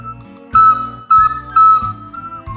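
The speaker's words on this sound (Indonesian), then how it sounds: "bunyinya seruling itu prit, prit, prit, seperti bunyi peluit" Bamboo flute (seruling) played in a short demonstration: a few clear, piping whistle-like notes, loud and close, each held briefly before the next.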